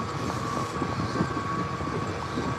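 Four-wheel drive tractor engine throttling up in sub-zero cold, a steady low rumbling drone with a faint constant whine, no rising rev sweep, heard alone without talk.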